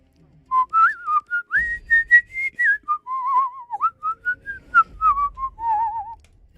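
A person whistles a wavering, melodic tune while breathing in, the clear tone sliding up and down in short phrases, loud and close, with a faint breathy rumble underneath.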